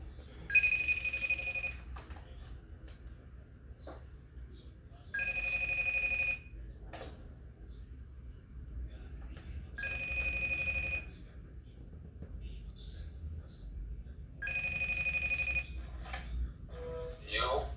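An electronic ringing tone repeats in four bursts about every four seconds, fairly quiet against a low background hum.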